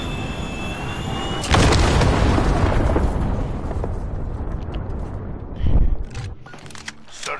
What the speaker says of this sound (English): I see an explosion right in front of me